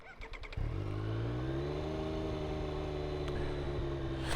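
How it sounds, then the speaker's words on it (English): A Triumph Street Triple 765 RS motorcycle engine fires up after a short crank and settles into a loud, steady high rev, heard close and alone. "When you first start it back up again, it revs quite high."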